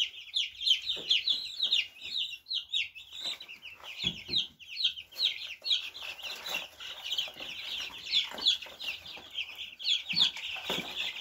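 Young chicks peep rapidly and continuously, a dense, high-pitched chorus of close cheeps, while being carried out to a barn, with occasional soft thumps and handling noises.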